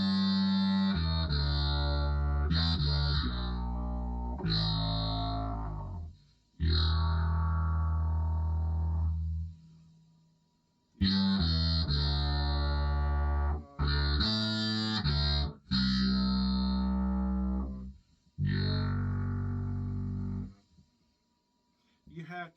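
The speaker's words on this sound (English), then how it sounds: "This is my vocoder VO1." Vocoder VO1 pedal processing a voice into a robotic, buzzy chordal tone, sustained phrases with pauses between them, loud and close.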